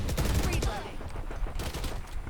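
Rapid automatic gunfire from the shooter video game Valorant, loud dense bursts crackling through the first second then continuing in quieter bursts, with brief player voices in the mix.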